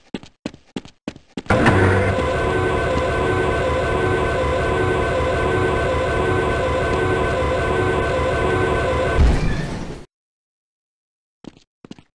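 An automated train in the video game Half-Life runs with a loud, sustained mechanical drone full of steady tones, starting abruptly after a few short clicks and cutting off sharply near the end, followed by brief faint clicks.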